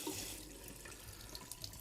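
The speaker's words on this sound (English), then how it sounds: "we're going to just run some water, get all the air out of our lines" Water running from a newly installed drop-in bathroom sink faucet to purge air from the lines, a soft continuous splashing hiss, quiet and close, no voices.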